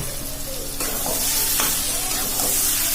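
Rajma masala sizzling and being stirred in oil in a pan, a continuous close frying hiss with scraping strokes of a spoon every second or so.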